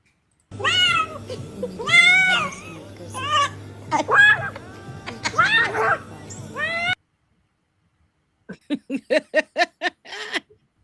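A cat meows repeatedly with long rising and falling cries, loud and close, then a quick series of short yips after a brief silence, all from a video being played back.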